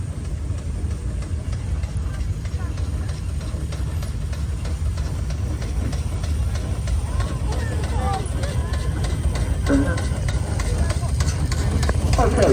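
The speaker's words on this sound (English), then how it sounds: "Dan is on a 4-inch scale Garrett agricultural engine. It's a single-cylinder engine." A 4-inch scale Garrett single-cylinder agricultural steam engine running in a show arena, a steady low mechanical chuffing rumble with faint clanks underneath, continuous and fairly close amid outdoor show ambience.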